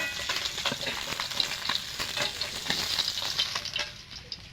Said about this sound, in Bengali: মাছগুলো উল্টে পাল্টে ভেজে নিয়েছি